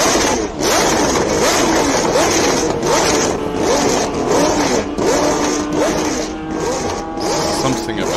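A 1974 Tyrrell 007 Formula 1 car at the Simola Hillclimb, its engine repeatedly revving up and dropping through gear changes as it passes, loud and close, with a commentator talking over it.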